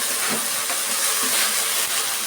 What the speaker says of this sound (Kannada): ನೋಡಿ, ಈ ಥರ ಫ್ರೈ ಮಾಡ್ಕೊಬೇಕು.